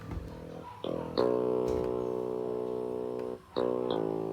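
A bass guitar plays alone, holding low sustained notes with a few distinct attacks and a brief dip before the next note.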